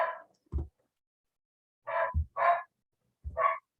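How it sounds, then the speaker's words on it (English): A dog barks in short bursts somewhere in the background of a home, four or five separate yips and woofs spread out with quiet gaps between them. "If you're hearing a dog in my background, I do apologize."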